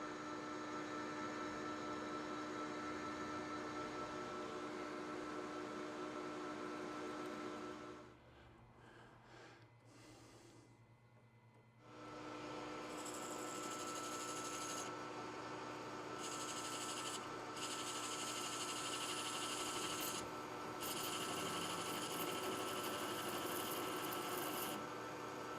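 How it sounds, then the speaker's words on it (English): Drill boring a hole sized for an 8-32 screw into metal parts of a laser-welded box, with alcohol used as cutting fluid; a steady whirring grind runs throughout, dropping away briefly midway before resuming loud and continuous. "Going to drill for 832."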